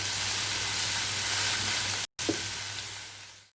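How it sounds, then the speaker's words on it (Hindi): Carrots and capsicum sautéing in oil over a low flame, a steady close hiss of gentle frying with a brief cut partway and a soft stirring scrape after it, no voices. "हल्की आंच पे आपने भूनते जाना है ताकि सारी सब्जियां जो हैं वो अच्छे से आपस में मिक्स हो जाएं।"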